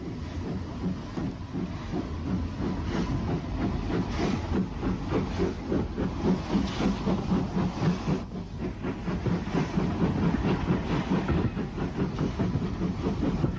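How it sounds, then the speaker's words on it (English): Steam locomotive No. 18 Ningwood pulls away from St John's Road station in 1964 on the Isle of Wight railway, a loud, steady rumble with rapid exhaust chuffs, hiss and clattering wheels, continuous throughout with no voices. "18 Ningwood makes a spirited departure from St John's Road in"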